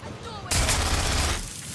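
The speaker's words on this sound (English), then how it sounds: "I'm taking fire here." Gunfire in Watch Dogs Legion erupts after a half-second lull as a dense, loud burst of rapid shots that roars steadily for over a second before easing slightly.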